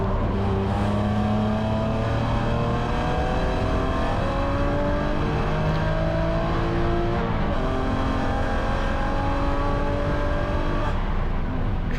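A BMW E9X spec race car accelerating around the Gingerman race track: a loud, steady in-car engine drone that climbs in pitch again and again as it pulls through the gears, with no talk.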